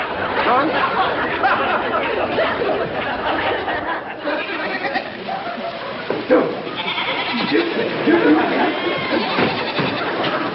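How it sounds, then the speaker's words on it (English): Several goats bleat and cry out amid busy overlapping chatter and voices, a crowded, noisy scene with animal calls mixed throughout. "Mr. Maggie, that crazy fool turned on his sprinklers and let my goats loose"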